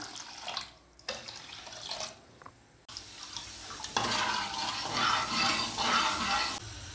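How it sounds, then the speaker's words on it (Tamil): Two tumblers of water pour into a pot of sugar to make syrup, a splashing stream that starts and stops, then runs steadily louder and fuller toward the end. "2 டம்ளர் தண்ணி ஊற்றிக்கிறேன்."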